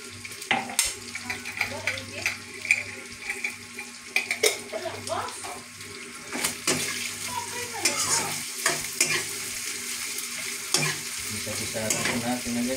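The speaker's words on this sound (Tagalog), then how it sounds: "Lalagay na po tayo ng bagoong." Bagoong shrimp paste, cooked for a vegetable pakbet dish, sizzles in a pan as it is stirred, with irregular close scrapes and clatters of the utensil over a steady frying hiss and a brief watery splash.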